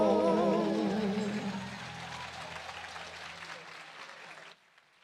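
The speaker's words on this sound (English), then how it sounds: "Give them a round of applause again, please" An audience at a school graduation claps loudly after a trio's performance, a dense burst of applause that thins out and fades before cutting off, with a voice briefly heard at the start.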